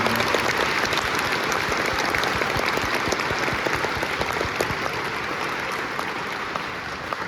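Sustained audience applause rewarding a choir and orchestra at a school honor festival concert, dense steady clapping from a large crowd that holds level throughout with only a slight fade near the end.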